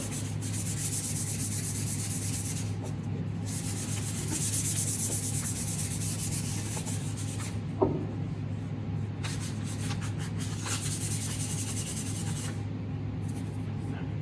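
Steady back-and-forth rubbing of 320 grit sandpaper along a wooden boat paddle, a continuous close scratchy sanding with brief pauses and one small knock midway.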